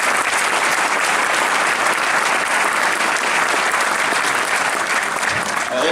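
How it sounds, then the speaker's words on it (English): An audience at a state senator's oath-of-office ceremony in a high school gives a loud, continuous round of applause, dense and steady from start to finish. "Please, one more round of applause."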